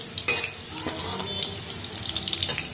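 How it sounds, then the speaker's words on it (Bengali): Rice frying in a pan for chicken fried rice, a steady close sizzle and hiss with occasional sharper crackles and stirring clicks throughout. "চালটাও ভেজে নিচ্ছি।"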